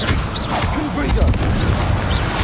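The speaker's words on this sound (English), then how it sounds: "Confringo!" In the video game Hogwarts Legacy, a Confringo blast spell sends out booming explosive bursts amid rumbling combat noise, loud and close, with shouted voices mixed in.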